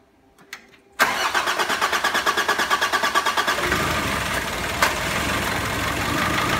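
A Nissan YD25 diesel engine cranks with a rapid rhythmic churn for a few seconds, catches, then settles into a steady, loud idle.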